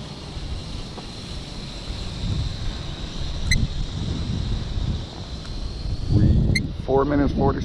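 Wind buffets a drone in flight, a steady low rumble of gusts and microphone wind noise running throughout, with a burst of louder buffeting and a brief voice near the end.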